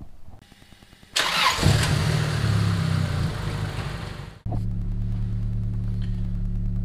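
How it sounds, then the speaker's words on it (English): A turbocharged Honda Accord cranks briefly, catches with a loud surge, and settles into a steady mid-pitched idle hum, running close and alone with no talk. "I'm going to go ahead and fire it up, get this thing warmed up"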